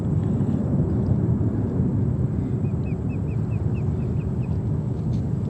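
An Airbus A350-900 arriving from Rome at JFK Airport gives a steady, fairly loud broadband roar with no talk over it.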